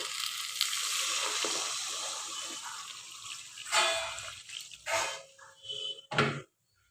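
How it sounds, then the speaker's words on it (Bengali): Water poured into a pan of spiced fish and eggplant curry: a steady sizzle and splashing, followed by a few louder bursts of bubbling, heard close with no voices. "মশলাটা কষানো হয়ে গেছে এর মধ্যে সামান্য পরিমাণে জল দিয়ে দেব"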